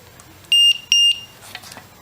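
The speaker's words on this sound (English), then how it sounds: "I'm going to cover up the buzzer because it beeps a little bit at the beginning." Two short, loud electronic beeps in quick succession from a battery checker's buzzer, followed by faint handling noises.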